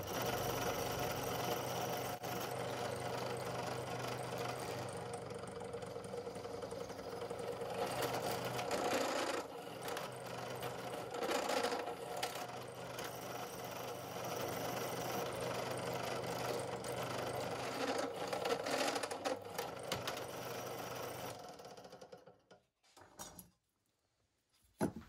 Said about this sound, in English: using my sheet metal drill, I drill the holes where the studs are going to pass through